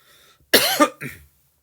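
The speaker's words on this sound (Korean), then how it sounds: "갑자기 기침이 나오네요." A short burst of coughing from a lingering cold, two or three harsh coughs close to the microphone, then silence.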